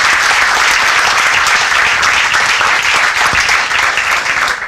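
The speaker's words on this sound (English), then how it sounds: "How about a big round of applause again for Diane Tice?" A loud, thick round of audience applause for a donor at an education foundation event, many hands clapping at once in a continuous roar that stays strong throughout and eases slightly at the very end.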